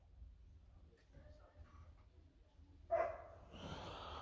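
A dog gives a quiet, distant bark or two near the end, while a person talks in a low voice over a soft background hum.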